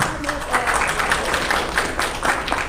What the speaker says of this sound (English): So let's give a round of applause for our